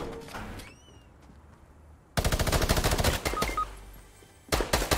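Gunfire in a Fortnite match: after a quiet start, a loud burst of rapid shots hits suddenly and runs for over two seconds, drops away, then a fresh burst cuts in at the end.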